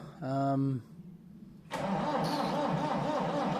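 A Massey Ferguson 698 tractor with starting trouble cranks on its starter and then sets into a steady, rhythmic chugging, loud and close, following a short tonal sound at the start.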